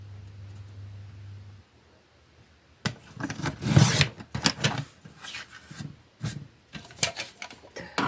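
Paper is cut for a scrapbooking album, with quiet handling at first, then a run of close, crisp snipping and rustling strokes in irregular bursts, without talking.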